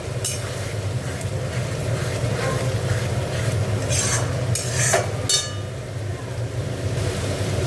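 Ground spice paste with a splash of water stirred and sautéed in a pan for doi katla, a steady low simmering bubble with occasional scraping and clinks of the spoon throughout, close and moderately loud.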